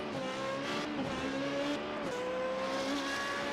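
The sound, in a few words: Formula 3.5 race car engine in sim racing game at Suzuka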